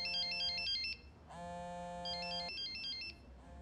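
Telephone ringtone chiming in a short repeating electronic melody, with a pause before it sounds again, fairly quiet and heard alone with no talk.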